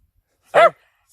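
A dog named Bob gives a single short bark outdoors on a walk, fairly close and clear, followed by silence and the onset of another bark at the end.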